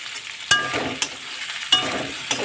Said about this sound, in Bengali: আদার যাতে কাঁচা গন্ধটা না থাকে সেই জন্য বেশ একটু ভালো করে ভেজে নিতে হবে